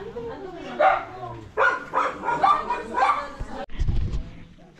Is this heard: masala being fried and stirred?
no